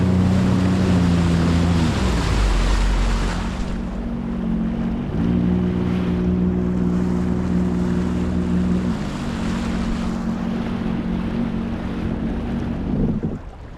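A jet ski engine on the open ocean off the Gold Coast drones loudly and steadily, shifting pitch a few times as the throttle changes, under heavy wind noise and the wash of waves.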